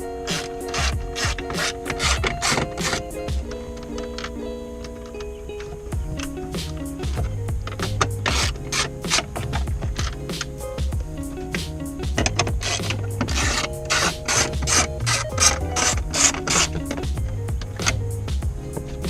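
Socket wrench ratcheting out 7mm bolts from the dashboard of a 2003 Mercury Marauder, with repeated quick clicking bursts and rubbing of metal on plastic, close and steady.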